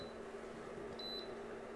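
A kitchen appliance gives a short electronic beep, chirping twice in quick succession over a steady low hum of room noise.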